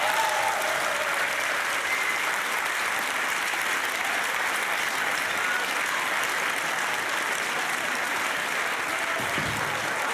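Sustained audience applause from a studio crowd at a German TV comedy show, steady and dense for the whole stretch with no pauses.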